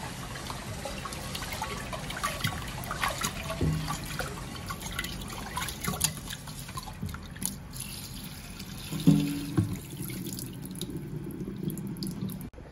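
Water poured and swirled in a pot of rice to measure it before cooking, a continuous splashing and trickling with scattered clinks and knocks, fairly close, no talk.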